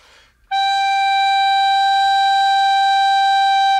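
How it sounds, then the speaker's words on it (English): A tin whistle sounds one steady, bright sustained note held for about three seconds after a short soft lead-in, loud and clear with no accompaniment. "now I'm going to pull the body out of the mouthpiece a little bit to flatten the whistle, make it lower, and then we'll check it with the tuner now."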